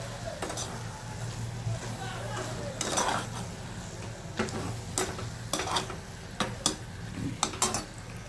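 A spoon stirs oats and vegetable khichdi in a pot, making irregular clinks and soft scrapes against the metal over a low background hum.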